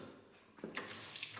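Water from a tap in a mountain shelter in Cazorla National Park starts running after a quiet moment, a close, hissing stream that splashes steadily for about a second.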